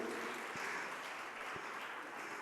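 An audience at a religious discourse claps in a dense, even wash of applause for a few seconds, with a couple of soft thumps and no speech.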